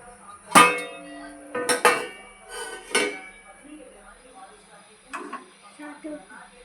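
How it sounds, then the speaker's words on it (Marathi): Metal clinks and clangs as a lid is set on a cooking pot of upma after the gas is switched off, a few sharp knocks with quieter rattles between, while someone talks. "गॅस बंद करून परत एकदा झाकण ठेवते"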